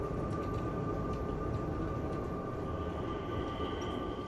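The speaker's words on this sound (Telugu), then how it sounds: "టైం అవ్వగానే అక్కడ నుంచి ట్రైన్ మూవ్ అయిపోతుంది" A driverless automatic train moves at a Philippine airport, giving a steady, even rumble with a faint constant hum throughout and no voices.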